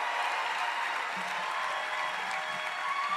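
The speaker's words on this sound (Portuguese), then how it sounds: "Bata palmas para Jesus." A church congregation claps in a large hall, a steady, somewhat distant wash of many hands without distinct individual claps, sustained evenly for about three seconds.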